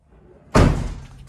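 A car door on a project car fitted with DIY fiberglass fenders swings shut with a single loud, close slam that rings briefly and then fades, with quiet room noise before it.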